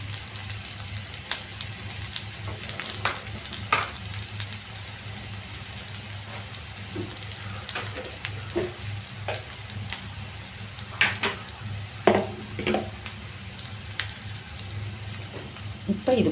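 Snake gourd poriyal sautés in a pan with a soft, continuous crackling sizzle, scattered clicks of stirring and a low steady hum beneath, fairly quiet overall.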